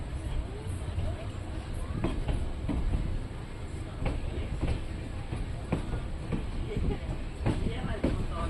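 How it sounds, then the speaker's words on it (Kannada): A passenger train (Tatanagar Express) rolls on its rails after pulling out of Kadur Junction, giving a steady low rumble with recurring wheel clicks and knocks throughout. "ಎರಡು ನಿಮಿಷ ಹಾಲ್ಟ್ ನಂತರ ನಮ್ಮ ಟ್ರೈನ್ ಕಡೂರು ಜಂಕ್ಷನಿಂದ ಹೊರಟಿದೆ."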